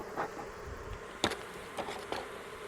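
Honeybees buzz faintly and continuously around an open hive while it is being fed sugar syrup from a top feeder, with a few brief louder clicks and knocks of handling.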